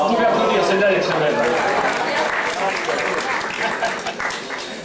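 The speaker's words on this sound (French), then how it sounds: "Vous pouvez applaudir" An audience bursts into loud, sustained applause after a spoken aphorism, dense clapping mixed with crowd chatter and some voices, holding strong before gradually thinning out toward the end.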